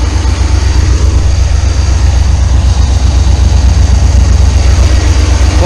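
The heater blower in a 1990 Chevy G20 van pushes air through a dashboard duct as a loud, constant whoosh over a low, even rumble, unbroken throughout.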